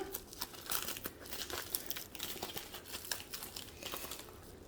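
Close, crinkly rustling and tearing of a padded plastic bubble envelope holding a diamond painting kit being pulled open, in uneven bursts of crackle with short pauses between.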